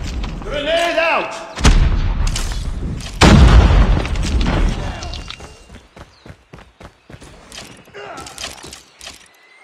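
A grenade goes off in a Call of Duty Search and Destroy ranked match: a single heavy, booming blast close by, mixed with scattered gunshots, clanks and footsteps in the game.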